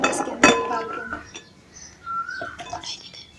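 Boiled chickpeas clatter into a bowl for chaat, with a sharp clink near the start and scattered lighter knocks and scrapes of utensils against the dish, close by.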